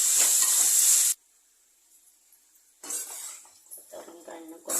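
Tomato skins sautéing in a hot pan give a loud burst of hiss and sizzle, which cuts off abruptly. Quieter sizzling and faint utensil clatter return near the end.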